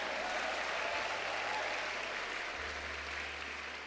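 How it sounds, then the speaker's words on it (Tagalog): A church congregation claps together in steady, continuous applause, a dense even patter of many hands that holds for the whole moment with a faint low hum underneath. "Lakasan nyo yung palakpak nyo"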